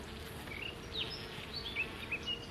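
Honeybees buzzing around a hive after a rainstorm, a steady close hum of wings with individual bees whining past the microphone in short pitch-shifting swoops.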